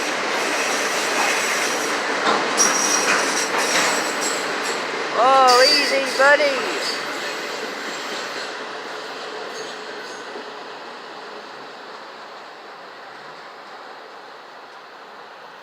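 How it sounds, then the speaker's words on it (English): A Norfolk Southern auto rack freight train rolls past on a cold night with a steady rumble and clatter of railcars, and wheels squeal briefly in the middle before the sound fades away. Someone speaks briefly over it. "There goes the NS Auto train, YouTube."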